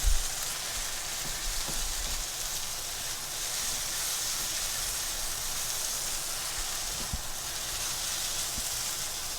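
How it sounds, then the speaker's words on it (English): Guyanese-style fried rice frying in a hot pan gives a steady, close hiss and crackle that runs unbroken and evenly loud throughout, with no voices. "I'm gonna go ahead and let this keep frying, cooking."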